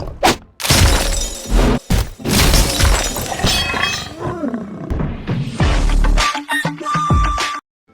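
Ice set ability from the Shadow Fight 3 fighting game, with sharp ice spikes bursting from the ground: loud, dense, crackling shatter bursts and crashes in quick succession, backed by a roaring rumble, with short gaps between the bursts.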